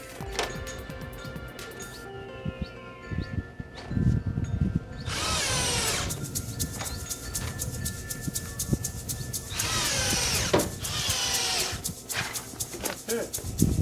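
Power drill driving screws into a wooden greenhouse window frame, several short bursts of whirring spaced apart with quieter clatter and handling noise between them, fairly close.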